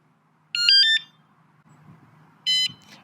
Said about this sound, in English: it's going to let you know that the alarm is now set